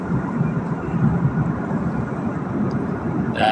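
Steady broadband roar of an airplane cabin in flight, a continuous loud engine and air rush with no pauses, heard alone without talk.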